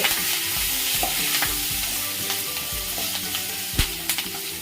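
Dry red chillies, green chillies and mustard seeds fry for tempering in hot oil, giving a dense steady sizzle with scattered sharp pops and crackles close by, and a few stirring scrapes.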